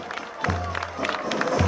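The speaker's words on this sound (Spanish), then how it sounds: "Y escuchamos el aplauso bien fuerte de toda la comunidad" Applause and cheering from a community crowd lining Diagonal Sarmiento at the 2014 civic-military anniversary parade in Caucete, a steady broadband clatter of clapping with a low hum underneath and a few voices mixed in.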